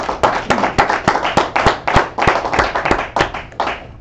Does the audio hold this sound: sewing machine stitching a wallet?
no